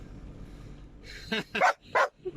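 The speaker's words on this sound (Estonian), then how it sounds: "on ka koer, kes lärtsub siin kõrval" A dog barks beside a restaurant, a few quick close barks in a short burst after a quiet lead-in.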